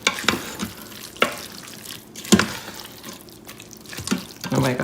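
Black beans stirred in an Instant Pot, sharp spoon scrapes and sloshes that come in irregular bursts with wet bubbling between them, close and moderately loud.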